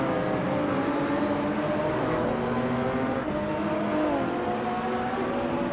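A 1987 Buick GS with a turbocharged V6 engine racing in a video game, giving a steady sustained engine drone with shifting pitch as it revs, loud and continuous throughout.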